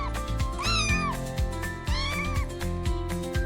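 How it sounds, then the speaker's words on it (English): Kittens meow in two high, wavering calls, close and clear over a pulsing musical backing with a steady beat. "9 little kittens."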